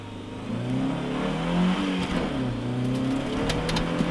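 A rally car launches hard off the start line at a Swedish sprint rally special stage, its engine revving loud and close as it pulls away, with a steady roaring drone and gear-shift swells throughout and no talk.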